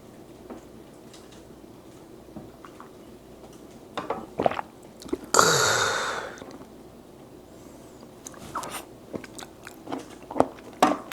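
Kimchi cabbage eaten with raw oysters and boiled pork is chewed close to the microphone in wet, crunchy bites, including one loud, long crunchy burst midway, with no talking.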